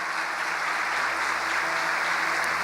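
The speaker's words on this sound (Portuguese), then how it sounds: "Você pode dar um aplauso ao Senhor?" A congregation claps for the Lord during a church program, a steady, even wash of applause that holds at a constant level throughout without any voices.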